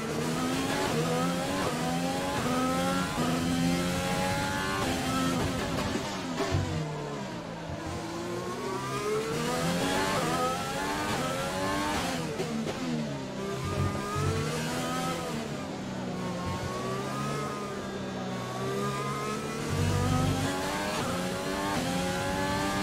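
Race car engine in the F1 2020 game during a lap at Baku, a loud continuous whine rising and falling through gear changes and braking, with sweeping pitch bends and no talk over it.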